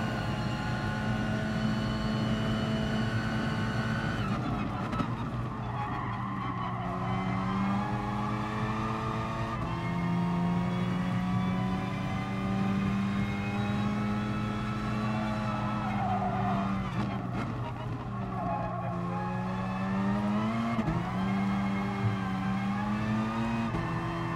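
Racing engines from a Renault Megane and a Dodge Viper at Bathurst in GT Sport drone and whine continuously, pitch rising and falling through gear changes, with tyre noise throughout.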